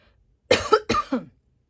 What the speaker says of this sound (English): Excuse my cough. This is still a leftover COVID cough